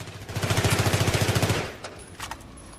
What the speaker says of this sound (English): It's a lot more accurate than full auto, which I'm going to switch to now